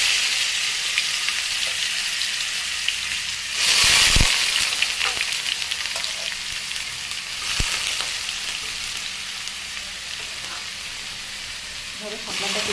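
Water lily stems hit hot oil tempered with black cumin seeds, giving a steady close sizzle with a louder burst of frying as they land, then a constant crackling hiss throughout.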